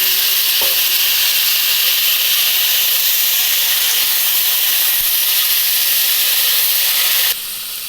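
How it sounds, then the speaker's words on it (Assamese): Jujubes fry in hot mustard oil with bay leaf and dried red chilies, a loud, continuous close-up sizzle and hiss that runs steadily and drops off abruptly near the end. "তেলটো গৰম হৈ যোৱাৰ পিছত ইয়াত দি দিছোঁ মই বগৰীখিনি।"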